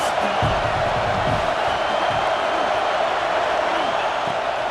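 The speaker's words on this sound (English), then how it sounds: "Big 3rd down as the crowd gets behind this defense." A stadium crowd cheers in the EA Sports College Football video game during a big third-down play, a thick, continuous roar that holds at a steady, loud level throughout.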